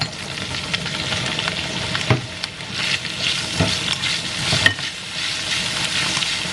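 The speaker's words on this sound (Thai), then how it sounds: "ผัดหัวหอมแดง" Red onion stir-frying in hot oil gives a steady sizzle, broken by irregular scraping and clacking from stirring.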